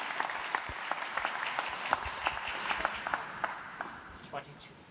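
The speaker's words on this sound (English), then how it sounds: "There's the applause from the crowd." Applause from a snooker match crowd, light scattered clapping that rises and fades, with a commentator talking over it.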